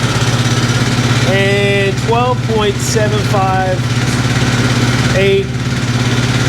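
A 2005 Kawasaki Brute Force 750 ATV engine idles steadily and close by, giving a constant low rumble through the whole clip while someone talks over it.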